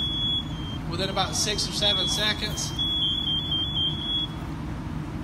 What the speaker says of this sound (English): right there, we've got the smoke alarm already activating